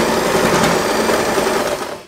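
A sewing machine stitches fabric for a bow headband, running loud and steady without pause before slowing to a stop at the end.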